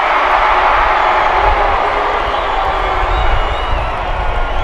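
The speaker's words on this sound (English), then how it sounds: "You hear how loud this place got with the crowd sing off." A big ballpark crowd roars and cheers at a baseball game, a dense, loud, continuous wall of voices that swells slightly without letting up.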